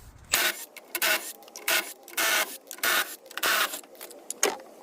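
Lug nuts being removed from a Nissan Frontier wheel with a power impact tool, heard as repeated loud, close buzzing bursts separated by short pauses.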